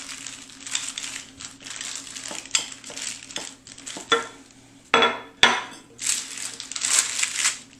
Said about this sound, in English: I'm just going to use my rolling pin to roll it out.